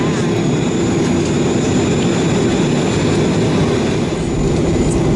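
Cayman Airways jet airliner backtracking along runway 08 at Grand Cayman before takeoff, a loud, steady roar of jet engines heard from a window seat inside the cabin, continuous with no pauses.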